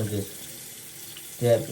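A tap runs as water is used to dampen a head before shaving. The flow sits quietly under short bursts of a voice at the start and end.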